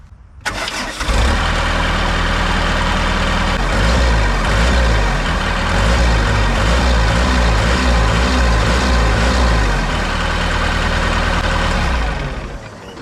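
A cheap replacement engine on a skid steer cranks and catches, then runs at a steady, loud, throbbing idle with a rhythmic mid-range pulse before winding down near the end.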